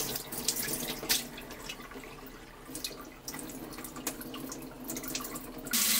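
Tap water runs into a bowl while fonio grain is rinsed, a close, continuous faucet stream with splashing bursts and swishing as the grain is stirred.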